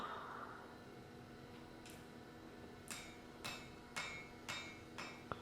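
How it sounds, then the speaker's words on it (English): A ball peen hammer strikes wrought iron being forged, about six sharp ringing blows spaced unevenly over a few seconds, faint and somewhat distant, with a low steady hum beneath. "I will shape them to a nice point with a ball peen."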